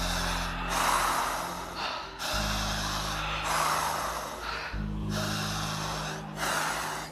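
Several people in a live hypnosis segment on a TV show breathe hard and forcefully, with loud snorting, gasping inhales and exhales in repeated waves over a steady low background hum.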